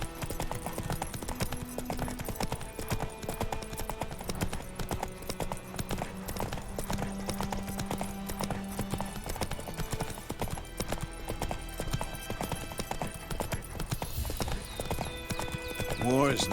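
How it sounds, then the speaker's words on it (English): Horse hooves clip-clop in a rapid galloping rhythm throughout a stretch of The Witcher 3 gameplay, mixed with game music and ambience and an occasional whinny, while characters speak. "Run, Roach."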